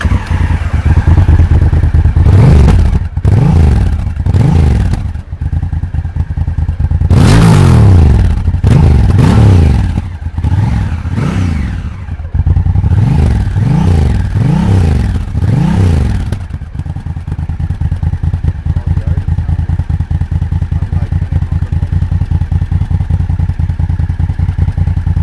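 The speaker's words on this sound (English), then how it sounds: "Definitely one of the most impressive features of the Africa Twin is its sound" A Honda Africa Twin motorcycle's exhaust revs up again and again, close and loud, in a series of sharp throttle blips with rising and falling engine pitch, then settles into a steady idle.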